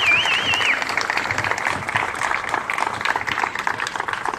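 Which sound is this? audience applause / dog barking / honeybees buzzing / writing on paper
audience applause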